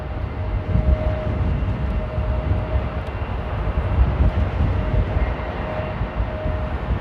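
Business jet, a Dassault Falcon, passing at Amsterdam Airport during a storm, a steady broadband jet roar blended with heavy wind buffeting on the microphone, sustained at moderate loudness throughout.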